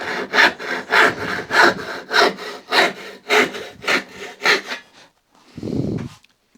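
A hand tool makes rip-cut strokes along the grain of pine. About ten even, rasping back-and-forth strokes come close and loud in a regular rhythm, then stop and are followed by a softer low scrape.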